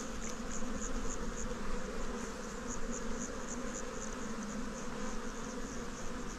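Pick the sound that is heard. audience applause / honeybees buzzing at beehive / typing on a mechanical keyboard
honeybees buzzing at beehive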